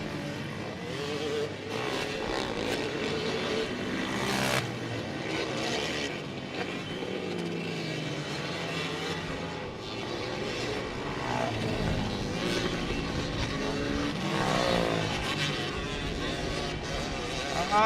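Dirt bikes and quads race on a flat track, engines droning loud and continuous with rising and falling revs as riders pass, under an announcer calling the race.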